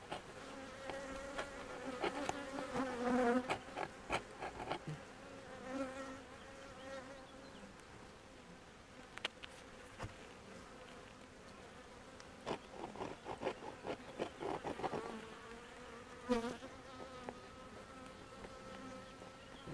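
Honeybees hum steadily at an open hive during a colony inspection, a dense close-up buzz that lasts the whole time. Louder swells and brief sharp knocks from frames and propolis scraping rise over it now and then.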